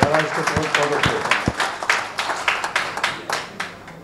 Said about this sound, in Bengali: আমি এদের উদ্দেশ্যে একটা জোরে হাত তালি দেওয়া সবাইকে অনুরোধ করছি